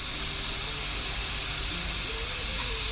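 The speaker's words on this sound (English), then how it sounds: "And this is just brake cleaner that's coming out." Brake cleaner blasts through a Harbor Freight HVLP spray gun in a steady, loud, continuous hiss with no pauses and no voices.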